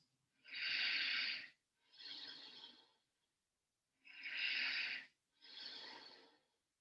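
Deep, slow breaths during a yoga side plank, four long breathy hisses in two pairs with a short pause in the middle, close and soft.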